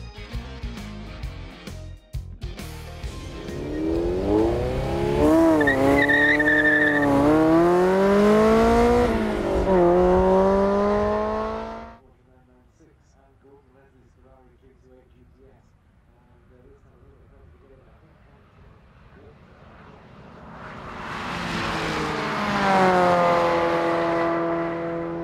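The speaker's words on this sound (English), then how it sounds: "It will be racing a rear-wheel drive Ferrari 328 GTS" Porsche 911 996 Carrera 4S and rear-wheel-drive Ferrari 328 GTS with 3.2-litre V8 in a drag race, loud rising engine notes sweeping up through gears before cutting off, a quiet murmur, then another engine swelling in.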